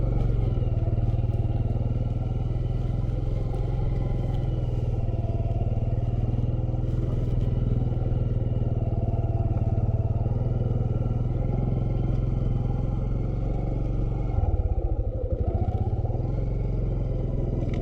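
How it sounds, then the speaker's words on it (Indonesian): A motorcycle engine drones steadily at close range with a low rumble and wind buffeting, continuous for the whole stretch. "hanya suara motor dan angin yang terdengar saat ini"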